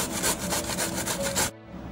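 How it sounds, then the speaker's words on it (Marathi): Cabbage rasped by hand on a grater, a quick rhythmic series of about eight scraping strokes close up that stop abruptly after a second and a half, followed by quiet. "अशा प्रकारे मी संपूर्ण पानगोबी किसून घेतलेली आहे."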